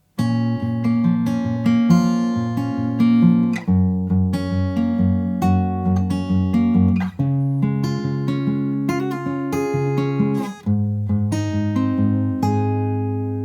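Fingerpicked acoustic guitar plays the intro of a song, a steady flowing pattern of plucked notes over shifting chords, close and clear with no voices, running for over ten seconds.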